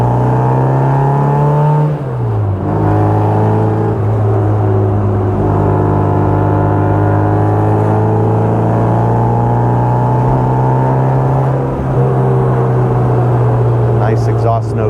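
A 1960 Bugeye Sprite with a twin tip exhaust and muffler drives along, its engine note loud and close with rising and falling revs through gear changes and a steady drone at cruising speed.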